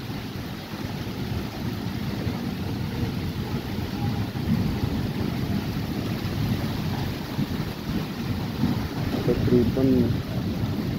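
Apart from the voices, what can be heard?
heavy rain in Lahore street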